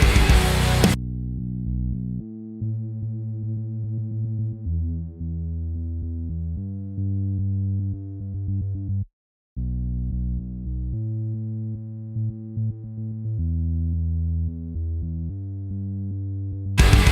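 A mono synthesizer patch from a single oscillator plays a plain, clean tone in a short stepping melodic line, steady and close, with one brief gap midway and no voices.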